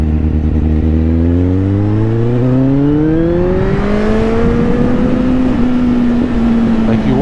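A motorcycle rides along a pebble-strewn country road, its engine note rising steadily as it accelerates through the gears, loud and continuous, with rough road noise underneath.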